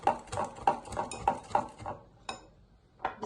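Lemon juice and yogurt stirred in a bowl, a utensil tapping and scraping the sides in a steady, repeating rhythm of close, moderate knocks, trailing off into a few sparser taps.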